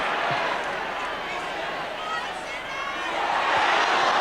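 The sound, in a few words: football crowd at Norwich City vs Inter Milan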